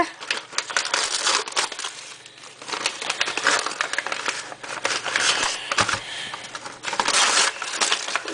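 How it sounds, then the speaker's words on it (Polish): Continuous crackling and ripping as sticky tape is pulled off a package, close and fairly loud, with irregular bursts throughout. "odklejmy najpierw taśmę"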